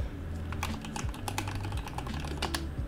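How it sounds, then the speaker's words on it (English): Rapid keystrokes clatter on a computer keyboard during a TX108SE build, a dense close patter of clicks over a low background hum, with no speech. "that is the cost of typing sounds"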